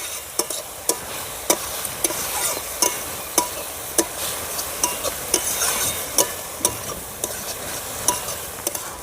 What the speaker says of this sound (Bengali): এক চামচ হলুদ ভালো করে আমি নেড়ে চেড়ে সব উপকরণের সঙ্গে আমি মিশিয়ে দেবো